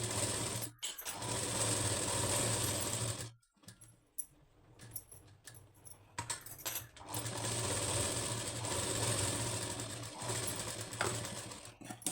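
Sewing machine stitching saree cloth blouse lining, a steady close mechanical whir with rapid needle clatter that runs in long bursts and pauses briefly twice.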